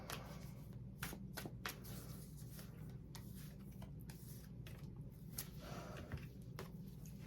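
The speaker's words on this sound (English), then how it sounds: "Couple more shuffles." Tarot cards are shuffled softly and repeatedly, quick riffling and sliding flicks in an irregular rhythm against a faint background hum.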